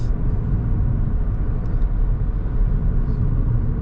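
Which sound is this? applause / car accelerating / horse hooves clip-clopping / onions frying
car accelerating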